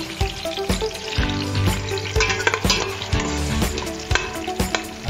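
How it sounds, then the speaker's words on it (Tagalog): Garlic and onion sizzle loudly in a frying pan, with repeated close scraping stirs that strike in an irregular rhythm throughout. No one speaks. "Kahalo natin siya."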